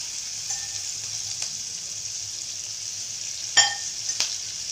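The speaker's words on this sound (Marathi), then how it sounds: "आपण जे वाटण वाटून घेतलं ना आता ते टाकू आपण आपण हे तेलामध्ये छान याला परतून घेऊ" Ground masala paste, freshly added to hot oil with tempered cumin and mustard seeds for a cowpea-pod bhaji, fries in a steady broadband sizzle, with a couple of sharper spatula scrapes and stirs near the end.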